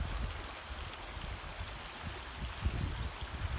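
River running high after stormy weather at the tip of an island, a steady low gurgling flow of water with small splashes, moderately close and without speech.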